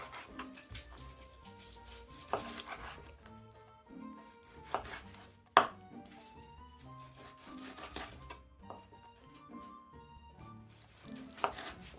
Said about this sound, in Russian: Свиные ребрышки нарезаю небольшими кусочками.